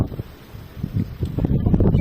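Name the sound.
wind blowing in snowy weather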